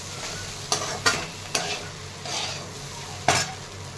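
Curd being stirred into okra (bhendi) in a hot pan, a continuous sizzle broken by several sharp scrapes and clinks of a spoon against the pan, no talking.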